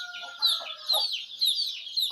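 A wet hen clucks close by after a night of heavy rain, a series of short, regular clucks repeating about every half second alone without any voices.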